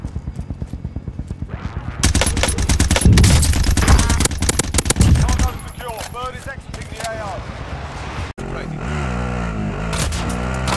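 Rapid automatic gunfire bursts from the video game Plunder, loud and dense, with vehicle engine and impact sounds mixed in, then quieter rumbling; a player talks in between.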